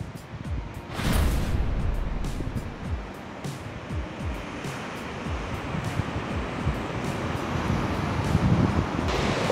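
Large surf breaking at a reef break in Bali, a steady wash of waves with rolling crashes, heavy wind buffeting the microphone at times.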